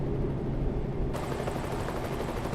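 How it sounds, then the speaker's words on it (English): Helicopter flying in the American Truck Simulator video game, a steady broadband rotor rumble that holds at constant loudness throughout, growing brighter and fuller partway through, with no voices. "You can hear helicopters."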